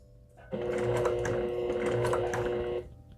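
A sewing machine stitching fabric runs in one continuous whirring burst of about two seconds, close and clear, then stops abruptly into quiet.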